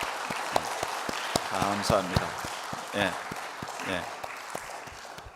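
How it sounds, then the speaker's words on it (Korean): Church congregation claps for elderly women of the women's mission society, a spread of sharp hand claps ringing through the hall under a pastor's amplified voice, which talks throughout. "우리 어머니들께 박수 한번 큰 박수 드리겠습니다."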